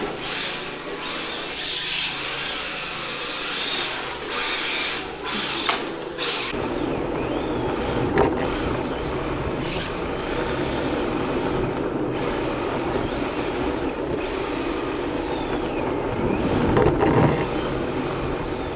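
A Kyosho Fazer D2 RC drift car drives continuously, its small motor whining steadily with tyre scrub. The sound is moderately loud and steady, with a rougher, busier stretch after the first few seconds and no talk over it.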